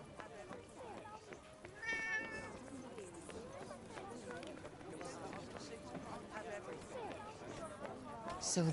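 A cat meows in the video game Forspoken, a short clear meow rising briefly above ongoing music and ambient game sound, with talk heard around it.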